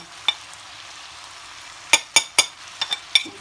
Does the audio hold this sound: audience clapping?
no